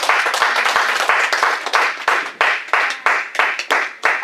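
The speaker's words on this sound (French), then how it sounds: "Acclamons encore très fort le Seigneur." A church congregation applauding in rhythmic unison, loud, close claps falling in a steady beat of roughly three per second, each burst crisp and bright, with no talking over them.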